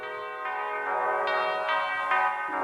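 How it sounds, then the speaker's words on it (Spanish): Church bells ring in a slow, steady sequence of overlapping, resonant tones, each new strike layering over the fading hum of the last. "las campanas anunciaban el 10º aniversario de la ascensión de Alejandro al trono"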